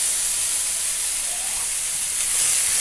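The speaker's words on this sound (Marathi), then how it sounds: "तर त्या तेलावर आपल्याला चांगला दोडका पण भाजून घ्यायचा आहे" Ridge gourd sizzles in hot oil with fried curry leaves, a steady close hiss of frying that runs unbroken throughout with no talking.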